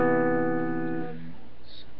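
Ibanez RG120 electric guitar picked with a thin light pick rings out as a sustained chord, the bright harmonic tone decaying after about a second into faint amplified hum.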